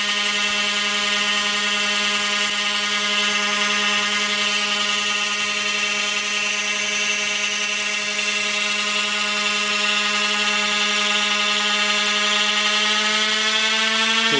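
A small Rotorgenie3 brushless DC neodymium-magnet motor spins steadily, giving a loud, sustained electric whine with a rich stack of tones that rises slightly in pitch toward the end, with no talking.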